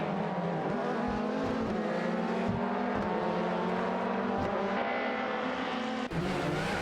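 A Renault 19 and a Peugeot 406 race closely in a racing video game, engines droning loudly and continuously with rising and falling revs and brief gear-shift dips.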